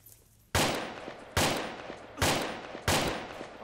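Four evenly spaced, loud gunshot blasts ring out in a video game, each a sharp crack followed by a short decaying tail, with no talking over them.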